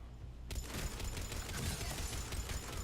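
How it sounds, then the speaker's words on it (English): Heavy, sustained gunfire erupts suddenly in Mass Effect 3 after a brief quiet moment, a dense, continuous barrage of rattling shots and impacts at a steady, fairly loud level. "Taking heavy fire."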